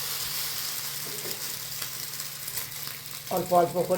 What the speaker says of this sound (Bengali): তাওয়ায় দিয়ে সুন্দর অমলেটের আকারে তৈরি করে নেব।